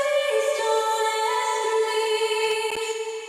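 A washy, sustained reverb tail carrying a smeared vocal tone with bright harmonics, soloed and slowly fading toward the end.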